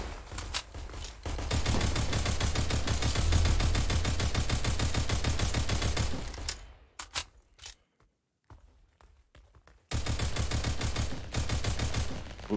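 A chain gun fires in a Roblox match as a dense, continuous rapid stream of shots, cutting out briefly into scattered bursts and near silence before the sustained fire resumes.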